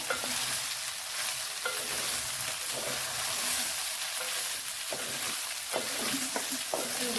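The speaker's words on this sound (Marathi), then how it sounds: "मस्त असं अलगदपणे राईस यामध्ये मिक्स करून घेऊया" Rice stirred into fried chicken in a hot pan for chicken fried rice, giving a steady close sizzle with soft scraping and stirring sounds throughout, and a little quiet speech faintly underneath.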